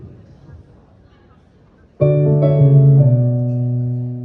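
After two seconds of quiet room noise, a piano enters loudly with a few staggered notes in a three-against-two polyrhythm that ring together and sustain, decaying slowly.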